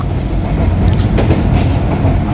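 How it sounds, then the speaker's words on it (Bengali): The Rangpur Express runs on its rails, heard from aboard: a loud, steady rumble with faint rhythmic clatter and some wind buffeting throughout, with no voices. "পাশে গাড়ি চলে আমাদের আর আমরা ট্রেনে চলে যাচ্ছি"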